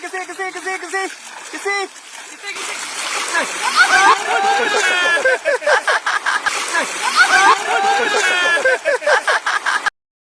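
Water is poured over a couple posing for a save-the-date wedding photoshoot, making a loud, sustained splashing and spattering that swells and continues for several seconds while voices call out over it.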